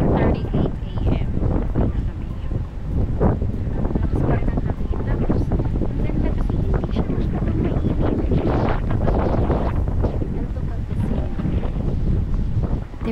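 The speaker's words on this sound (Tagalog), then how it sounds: "Ang lakas ng hangin dito." Strong gusting wind buffets the microphone on the summit of Mt Kapigpiglatan in Zambales, a heavy continuous roar with rumbling bursts, and people talk underneath it.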